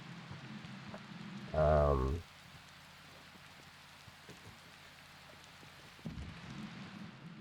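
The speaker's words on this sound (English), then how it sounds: "It's not a super heavy rain or a super bad storm." Video game rain hisses steadily throughout with a broad patter, briefly interrupted by a louder low-pitched burst near the start.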